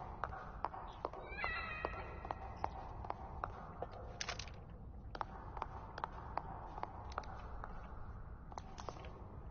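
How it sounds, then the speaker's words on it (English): A cat in the video game The Evil Within gives a short, faint meow early on, among quiet tapping steps and sparse ticks over a low background hum. "Hey, kitty kitty. Good, good kitty."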